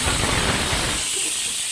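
Loud, close hissing sizzle of a spice tempering in hot oil, a steady spattering rush that cuts off abruptly at the end.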